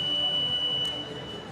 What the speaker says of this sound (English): Yep, the buzzer goes.